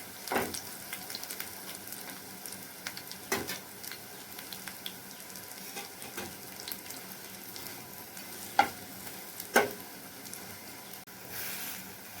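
Bitter gourd leaf bada frying in hot oil, a steady close sizzle and crackle running throughout with occasional louder pops and stirring clatter, no talking.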